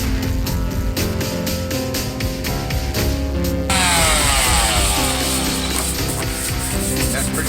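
Power sander working 120-grit sandpaper over Bondo body filler on a car hood, a loud, steady abrasive whir that shifts to a brighter, harsher scrub partway through.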